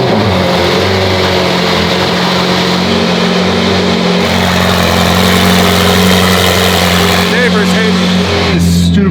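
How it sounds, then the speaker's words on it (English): A twin-turbo Ferrari F12 fires up from cold in a garage, its engine settling into a loud, steady high idle with deep low rumble throughout, a brief rev near the end. "So let's start this car up, get a cold start."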